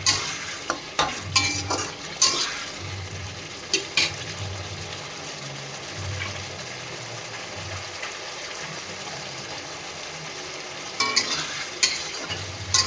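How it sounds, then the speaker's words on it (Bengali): Tomato sautéing in oil for katla fish curry, with clusters of sharp spatula scrapes and clatters against the pan over a continuous low sizzle. "এটা না ভালো করে কষতে হবে"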